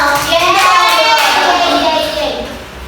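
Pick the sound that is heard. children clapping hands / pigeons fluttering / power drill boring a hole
children clapping hands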